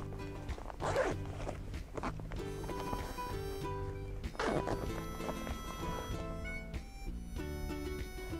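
A zipper is opened on the chest cover of a 3M M-Series powered air-purifying respirator helmet, giving close, scratchy rasping bursts against a steady background hum.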